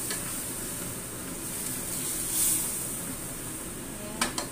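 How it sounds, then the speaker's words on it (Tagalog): A squid adobo with bitter gourd and oyster sauce gets stirred in a pan, a steady sizzle running throughout with a few sharp utensil clinks near the end. "Haluin. Halo-haloin."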